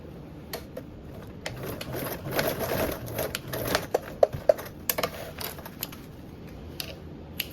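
A sewing machine stitches a fabric seam with a 3/8 allowance, a busy mechanical whir of rapid needle clatter that starts and stops in short runs, with sharp clicks near the end.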